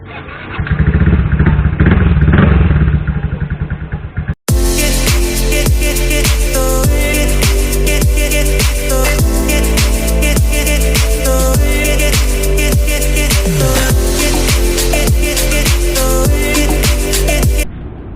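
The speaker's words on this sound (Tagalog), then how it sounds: "try natin na yung ginawa nating starter, pagpalit natin ng carbon brush" A Yamaha Mio i 125 scooter electric starter after a carbon brush replacement. A loud whirring crank runs for a few seconds, then after a brief gap a steady, close engine hum with rhythmic ticking carries on to the end.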